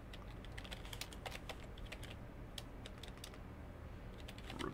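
Rapid typing on a computer keyboard, a steady stream of close, crisp key clicks with brief pauses, alone without talk.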